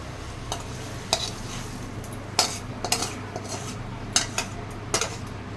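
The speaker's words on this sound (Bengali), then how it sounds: "আমি নামিয়ে দিচ্ছি প্লেটে।" Cooked pointed gourd being scooped from a pan onto a plate, with several sharp spoon scrapes and clinks against metal over a low steady hum, close and without talk.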